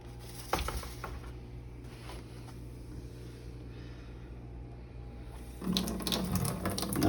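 Kitchen tap water runs to wet hands while making microwave Rice Krispie treats: a quiet, steady stream with a few clinks, swelling into louder splashing near the end.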